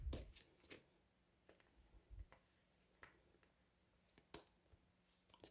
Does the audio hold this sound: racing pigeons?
no